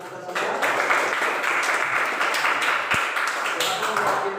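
Steady classroom applause from students at the end of a lesson, a continuous wash of clapping at moderate volume lasting throughout, with voices mixed in.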